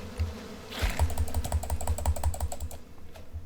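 Bees from a nest buzz in the survival video game Icarus, a busy rapid pulsing drone of insect wings mixed with fast clicking key taps, close and steady before fading.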